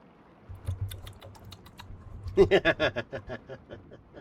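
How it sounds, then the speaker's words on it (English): Bursts of clicky keystrokes on a mechanical keyboard in a quiet indoor room, a few scattered presses and then a quick run of typing, close and fairly soft. "I'm glad you like the mechanical keyboard sounds."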